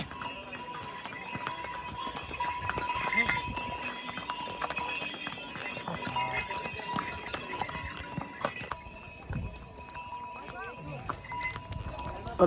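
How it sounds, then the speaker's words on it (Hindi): Horses walk along the Kedarnath pilgrimage trail, their hooves clip-clopping in a steady, uneven stream of hoof strikes, with crowd voices murmuring in the background throughout. "लेकिन आप ये राइट वाले साइड पे जाएंगे जहाँ पे घोड़े जा रहे हैं"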